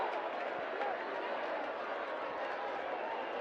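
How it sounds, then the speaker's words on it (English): Crowd cheering at a football stadium during the final of a COSAFA U20 youth championship match between South Africa and Malawi, a distant steady roar with no distinct peaks, filling the whole stretch. "the crowd here is going gaga"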